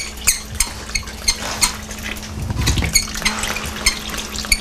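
A utensil stirs confectioner's sugar with a few drops of water in a bowl, giving repeated light clinks and scrapes against the dish over a low steady hum, close up with no talking.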